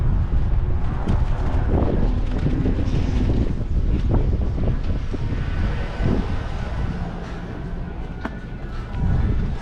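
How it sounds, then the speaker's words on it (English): Strong wind buffeting the microphone at Alameda's Bay Farm Island, a roaring, gusting rumble that surges and dips continuously and loudly throughout, with no talk. "That wind is kicking real hard."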